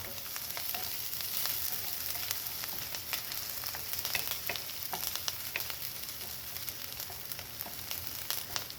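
Curry leaves, ginger and green chillies sizzle steadily in hot oil, with scattered sharp crackles and pops throughout, no voices.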